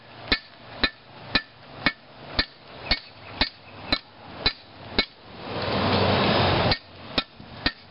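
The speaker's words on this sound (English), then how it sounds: "You can see the knife flattening out" Hammer blows forging a railroad spike into a knife ring out in a steady, evenly spaced series of sharp metallic strikes, with a brief rushing burst of forge air between them and no talking.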